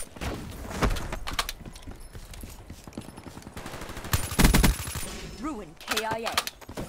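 Video game gunfire in Black Ops 3 multiplayer comes as sharp bursts and rapid shots, with a loud volley near the middle and game voice sounds toward the end.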